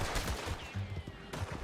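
A quick burst of gunshots rings out in Red Dead Redemption 2 during a standoff with United States Army soldiers, sharp reports packed close together over a brief, loud moment.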